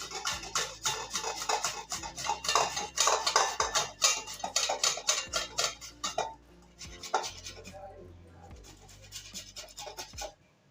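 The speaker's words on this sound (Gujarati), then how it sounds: "એક આપણે આવી ખમણી લેવાની છે એનાથી આપણે ટમેટાને ખમણી નાખશું" Local tomatoes being grated on a hand grater over a dish, with quick rhythmic rasping strokes close by, a brief pause midway, then a few more bursts of scraping.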